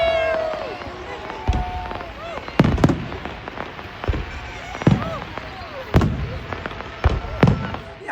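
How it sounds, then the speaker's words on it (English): Sharp booming firework explosions burst repeatedly at irregular intervals in Venice, with crackling tails and a whistle early on, while people chatter and cheer faintly in the background. "Well, how were the fireworks?"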